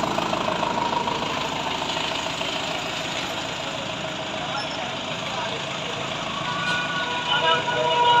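A Mahindra Yuvo Tech Plus 575 DI 4WD 47 hp tractor with a pneumatic planter runs at a steady idle, its dense engine rumble filling the whole stretch outdoors, while a voice speaks over it.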